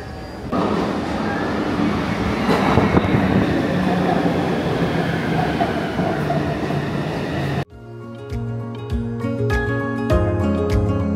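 A metro train in Taiwan rides the rails with a loud, continuous rumble and rattle for most of the stretch, then cuts abruptly to music near the end.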